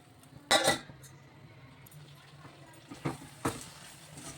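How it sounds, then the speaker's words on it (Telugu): A lid set onto a pot of Hyderabadi mirchi salan simmering on the stove: one sharp metallic clatter, then two softer clinks a few seconds later, close by, with faint kitchen background. "మూత పెట్టేద్దాం."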